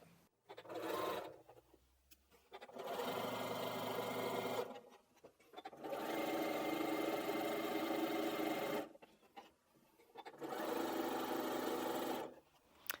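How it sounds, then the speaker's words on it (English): A sewing machine stitches quarter-inch seams on quilt pieces for a Bargello quilt, running in four steady bursts separated by short pauses. "we're going to take both of these to the machine and we're going to sew them 1/4 of an inch"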